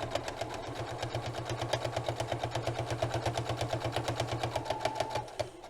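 A sewing machine stitching a fabric potholder runs steadily, its needle hammering in a fast even rhythm for several seconds, close and loud, then stops near the end.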